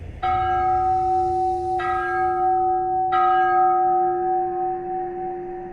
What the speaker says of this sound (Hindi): एक घंटी बजती है।